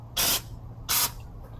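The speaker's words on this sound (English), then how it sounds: "use my brake cleaner just to get this dust off" Two short, loud bursts of brake cleaner spray into the engine bay of a BMW X5/X6 xDrive50i, each a sharp aerosol hiss lasting about a quarter second with a low hum underneath.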